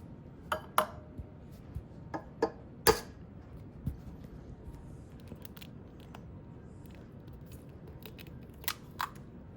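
An egg is cracked into a mixing bowl of cookie dough, giving a few sharp, close taps and clicks spread apart by quiet pauses.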